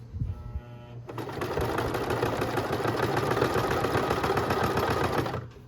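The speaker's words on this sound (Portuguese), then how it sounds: "eu desço a agulha para checar, ó, tá bem em cima do meu risco, aí eu começo a costurar" A sewing machine stitches a bag, starting with a few slow needle strokes and then running in a fast, even, continuous whir that stops abruptly near the end.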